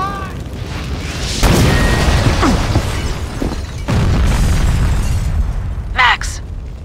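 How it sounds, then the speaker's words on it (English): A building blows up in the video game Max Payne 2: a sudden heavy boom followed by a second blast and a long rumbling, crackling roar, with excited voices shouting over it. "The building's blowing up."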